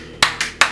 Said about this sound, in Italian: Hai perso. Un applauso.